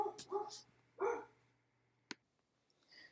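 A dog barks a few times indoors in the background, fairly faint and distant, with short sharp yips followed by quiet and a small click.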